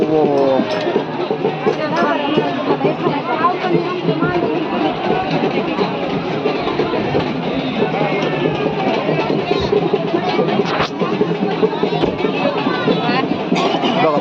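A dense crowd of devotees packs the Yedeshwari temple fair at Yermala, waiting for the palanquin procession, a loud continuous hubbub of many voices close around with a steady noisy bed.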